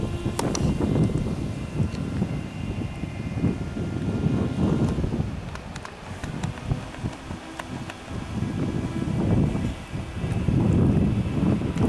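Steady wind buffets and rushes against the microphone while turning hard right and heading forward into it, gusting in loud surges with low rumbling and scattered rustling, no voices.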